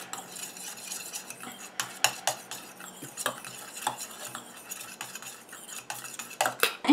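Homemade gelatinous face serum mixture being stirred in a small container, giving soft repeated scraping and clinking strokes at an irregular rhythm, close and fairly quiet, with no voices.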